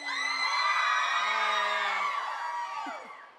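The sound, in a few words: crowd cheering at radio interview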